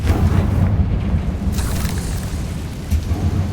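A Confringo fire spell explodes in the Hogwarts Legacy video game, a loud, deep rumbling boom that keeps rolling and crackling for several seconds with no one speaking.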